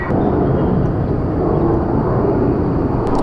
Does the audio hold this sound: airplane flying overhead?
yes